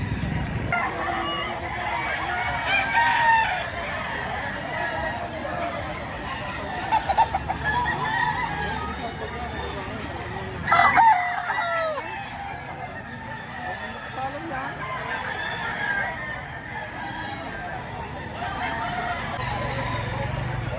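Roosters crowing and clucking at a chicken sale in Lipa, Batangas, several birds calling over a murmur of people talking nearby, with a few louder crows standing out.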